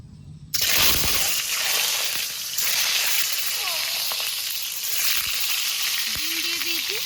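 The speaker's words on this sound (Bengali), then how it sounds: "এদিকে তেল গরম হয়ে গেছে, ডিমগুলো ভেজে নেব।" Eggs hit hot oil in a wok and burst into a loud, steady sizzle and crackle that continues close up throughout, with a brief voice near the end.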